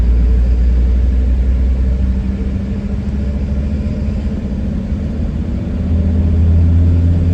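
A Sprinter van's engine rumbles steadily at low revs, kept under about 1200 rpm, as it pulls away, a deep, constant close drone with no talk over it.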